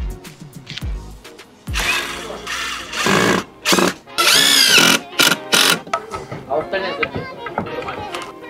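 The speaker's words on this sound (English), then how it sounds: "I'm going to screw the board in." A power drill drives screws into a board while a new vinyl replacement window is installed on a house, sounding in several loud, close bursts of a few seconds each, with people talking between them.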